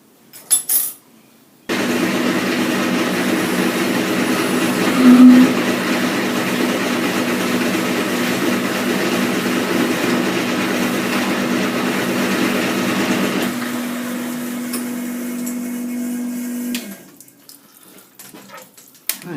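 A Bridgeport milling machine takes a light finishing cut on R8 tooling, a steady motor hum with a grinding whir that holds for about fifteen seconds, starts and ends abruptly, and sounds close and alone.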